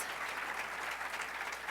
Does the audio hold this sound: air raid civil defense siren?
no